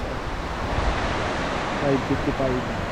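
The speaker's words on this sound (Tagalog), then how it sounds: "ito na yung tabi ng dagat guys" Steady broadband wash of surf on a beach in Agno, Pangasinan, at sunset, with wind rumble on the microphone, constant and close, with faint voices briefly audible toward the end.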